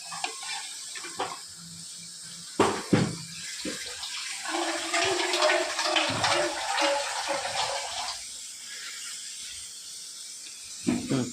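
Water splashes and swirls inside a cooking pot as it is rinsed after making tomato rasam, close and moderately loud, with a few sharp knocks and a steady run of pouring in the middle.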